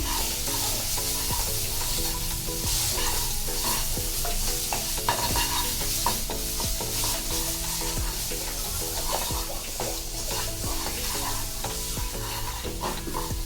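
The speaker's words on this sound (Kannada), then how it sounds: "ಇವಾಗ ಮಸಾಲೆ ಫ್ರೈ ಆಗಿದೆ." Masala with Everest chana masala powder, chilli powder and green chillies fries in a pan with a loud, continuous sizzle and steady stirring scrapes and clicks, close and without talk, for chole.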